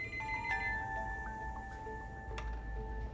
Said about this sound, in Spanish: en ese momento el teléfono sonó